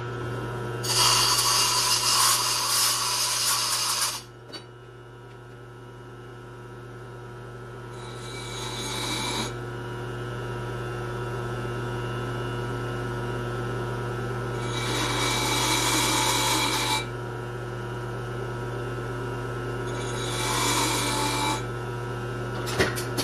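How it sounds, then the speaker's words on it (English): A lathe cutter is ground sharp in four separate bursts of bright rasping against a steady low machine hum, each pass lasting a second or two with quiet gaps between. "Both sides of this are not cutting, so I'm gonna sharpen this."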